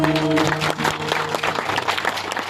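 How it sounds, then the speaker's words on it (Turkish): An audience breaks into dense, sustained applause after a live Turkish folk song, loud and steady, with a fading instrumental note lingering beneath at the start. "Çok çok teşekkür ediyorum alkışlar ellerinize"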